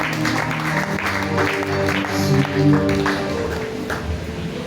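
A church congregation at a year-end night vigil claps together in acclamation, a dense sustained round of applause with voices and musical tones mixed in.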